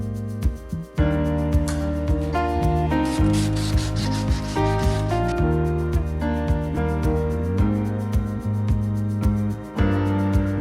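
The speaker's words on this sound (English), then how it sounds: "Now we just need to go hand sand in all the corners that need it, that we couldn't get to with the orbital sander." Sandpaper rubs back and forth on wood as corners in a straw bale house are sanded by hand. The rasping strokes are close and run under steady tonal background music.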